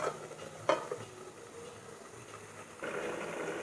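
Bottle gourd greens stirred in a pan, with a couple of clinking scrapes of a utensil against the metal over a steady low sizzle that grows louder toward the end.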